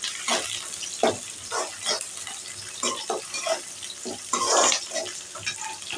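Shallots and green chillies sautéing in a pan, with close stirring scrapes and bursts of sizzle coming in irregular pulses.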